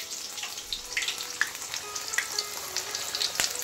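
Palak pakora sizzle in hot oil, spinach leaves coated in batter, giving a steady crackling fry with scattered sharp pops, close and moderately quiet.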